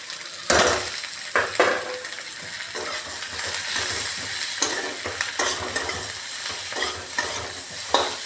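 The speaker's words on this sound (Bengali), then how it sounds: "আস্তে আস্তে এটাকে কষতে থাকবো যাতে টমেটোটা নরম হয়ে যায় আর গলেও যায়" Tomato with chilli powder, turmeric and salt frying in a pan for a rohu fish curry, a continuous sizzle under frequent scraping stirs and light metallic clinks, close and alone with no voices.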